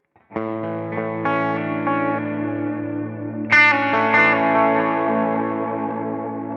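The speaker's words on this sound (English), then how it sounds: "I have just a standard ambient sound" Sustained electric guitar chords through a Line 6 Helix ambient preset ring out with lush reverb and echo, a second strum layering in midway and trailing off slowly.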